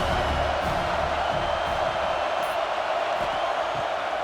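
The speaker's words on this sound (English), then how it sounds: "this crowd is turning it up a notch" Stadium crowd in the video game EA College Football 26, Syracuse at Notre Dame, roars as one steady, loud, unbroken wash of noise that fills the whole stretch with no clear voice above it.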